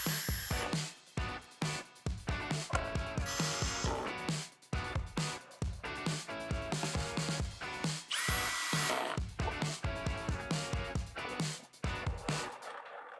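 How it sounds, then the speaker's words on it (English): A power drill drives screws through the wooden top into the Lazy Susan bearing hardware, giving repeated short whirring bursts that stop and start in a close, uneven rhythm. "I should be able to put my drill bit through that hole and then screw into the hole in the hardware into the top of the Lazy Susan"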